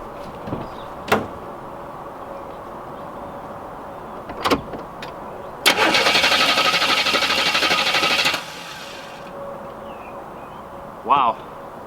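An Oldsmobile Cutlass engine that has sat unused since 2005 cranks on the starter in a steady, fast burst of about three seconds, close and fairly loud, with short clicks and knocks before and after.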